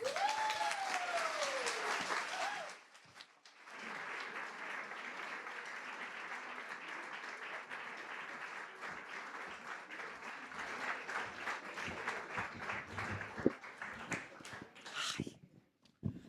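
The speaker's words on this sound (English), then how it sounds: "can I ask everybody for a warm round of applause for Miriam O'Callaghan and Mark Carruthers" A book festival audience in Belfast breaks into sustained, steady applause that fills the room for over ten seconds before tapering off, following a brief opening burst.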